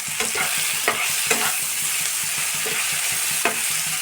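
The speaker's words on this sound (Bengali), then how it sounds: "আমি আঁচ কমিয়েই কিন্তু মশলাটা কষাচ্ছি" Spice paste with a little Kashmiri chilli sizzles steadily in a pan on low flame for a prawn curry, while a spoon scrapes through it in close, irregular stirring strokes.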